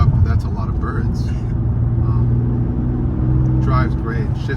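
BMW M3 driving along, the engine a steady low rumble inside the cabin with gear changes in a smooth drive, while someone talks over it throughout.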